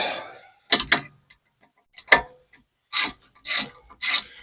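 Ratchet wrench tightening the lower brake caliper bolts on a Sprinter van's rear brakes, heard as several short bursts of close, sharp clicking separated by pauses.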